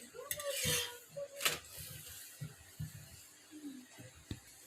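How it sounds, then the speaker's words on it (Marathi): Methi paratha roasting with oil on a pan, soft sizzling under a few clinks and scrapes of a spatula as it is flipped, close but quiet, with no talking. "आता वरच्या साईडने पण तेल लावून घ्या असे उलट सुलट करत व्यवस्थित खरपूस असे पराठे भाजून घ्यायचे"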